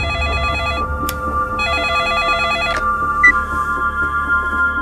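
A telephone bell rings in two long bursts of rapid, trilling electronic tones separated by a short pause, close and clear with no voices.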